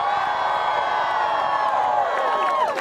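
A large crowd cheers and whoops continuously at a gathering, loud and sustained, with sharp rising shouts breaking out near the end.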